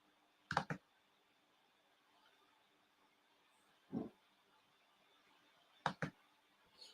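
Computer keyboard typing and clicking in three brief bursts, a double click near the start, a single one midway and another double near the end, fairly faint against a quiet room with no talking.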